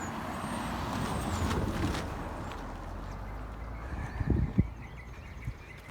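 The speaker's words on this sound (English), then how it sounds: "More traffic this morning than I thought there was going to be" Morning road traffic passing on a rural road, a steady low rumble of vehicles with a heavier truck-like surge near the end, fairly close and continuous.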